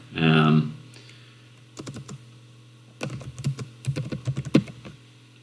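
Keys clatter on a computer keyboard during editing of notes in timesheet software, with a short burst of quick typing followed by two scattered clusters of clicks over a steady low hum.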